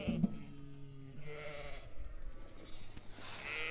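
Aberfield ewes and Suffolk Cross lambs bleat outdoors on a farm during lambing season, with a clear close bleat at the start followed by softer, more distant bleats and faint wind-like background noise.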